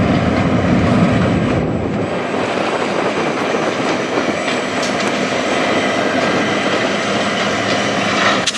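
A yard train rolls past on the Strathroy Subdivision as a loud, steady rumble of wheels and rail noise, close by and sustained throughout with no speech.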